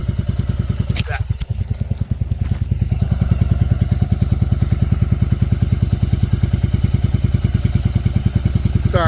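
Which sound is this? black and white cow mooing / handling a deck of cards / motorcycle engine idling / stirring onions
motorcycle engine idling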